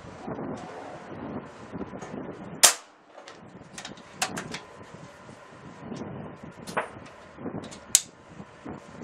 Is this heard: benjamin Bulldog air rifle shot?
yes